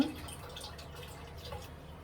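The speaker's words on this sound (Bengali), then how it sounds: "শাকটি ধুয়ে নেব" Leafy greens being rinsed in water in a village home kitchen, with a steady wash of trickling, dripping water running through the whole stretch at moderate level, no voices.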